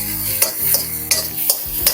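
Ginger and vegetables for masala Maggi are sautéed in a pan, with several sharp scraping strokes of a spatula at irregular intervals over a soft, close sizzle.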